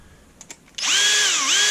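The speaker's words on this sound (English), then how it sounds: "and use the drill, it'll come apart" A power drill whirs loudly and steadily while backing screws out of an iMac Mini being taken apart for scrap, preceded by a couple of faint clicks, close up and without talk.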